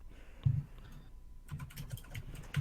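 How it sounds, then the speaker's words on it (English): Computer keyboard keys clack in a single tap, then a quick run of soft, close keystrokes in a quiet room. "That's because I'm typing a message."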